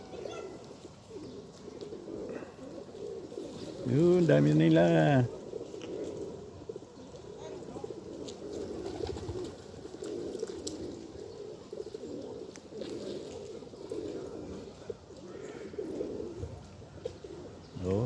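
Pigeons being fed coo in a low, throaty burst that swells briefly, over a steady outdoor murmur of birds and ambient noise, with a few spoken words.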